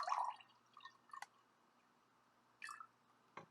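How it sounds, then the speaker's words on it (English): Water is poured from a container into colored glasses for a homemade water xylophone, heard as a few short, quiet splashes and trickles separated by near silence. "Adding more water to the red,"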